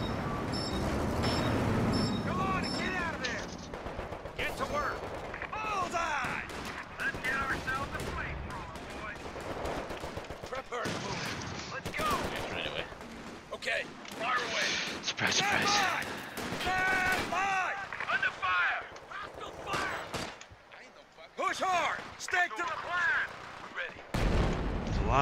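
World War II strategy game combat, with frequent gunshots, machine gun bursts and heavy artillery booms scattered through the stretch, mixed with shouted unit voices and talk over the battle.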